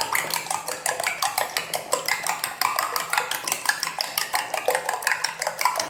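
Four eggs with a pinch of salt are beaten briskly in a bowl, the whisk or fork clinking steadily against the sides in a fast, even rhythm, close and continuous with no talking.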